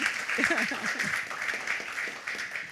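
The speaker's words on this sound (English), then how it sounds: "Another round of applause for all of them." An audience at the FICCI Frames 2016 event applauds for the films and actors just named, a continuous wash of clapping with a voice talking over it.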